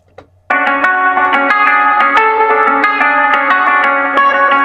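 Harsh, unprocessed rap vocal with no formant shifting, a bright, gritty voice with echo and effects starting abruptly after a short pause and running steadily, loud and up front.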